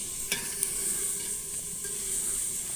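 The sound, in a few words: onions and chillies frying in pan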